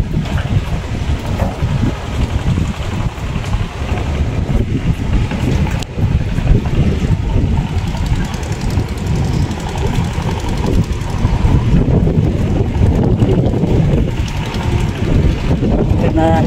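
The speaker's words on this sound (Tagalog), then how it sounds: "Malakas po ang hangin." Strong wind buffets the microphone outdoors near rice paddies in bad weather, a steady low roar lasting throughout with gusty swells and no talk.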